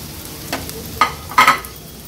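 Finely chopped medium onions added to hot oil, giving a few short sizzling bursts and stirring scrapes over a quiet low hiss, the loudest splash near the end.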